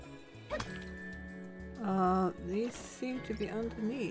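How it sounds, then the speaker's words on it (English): Dog barking in the video game My Time at Sandrock, a few short yips and whimpering barks over game music and sound effects, with a voice speaking. "What? Who's barking?"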